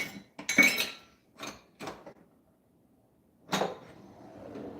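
Metal cutlery clinks and clatters in short bursts with quiet pauses between, as someone rummages through a kitchen drawer for a tablespoon while baking cookies; one louder rattle comes near the end.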